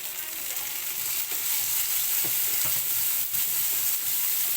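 Dried shrimp and tomatoes sautéing in a hot pan, making a continuous frying hiss with occasional faint stirring knocks throughout, with no talking.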